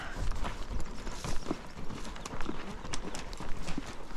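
Horse hooves clip-clop along the Loma Alta trail in a steady walking rhythm, close and fairly loud, with faint rustling between the hoof strikes.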